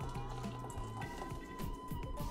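Blended bourbon cherry habanero hot sauce is poured into a cooking pot, a steady thick liquid stream with wet glugging drips over a constant background hum.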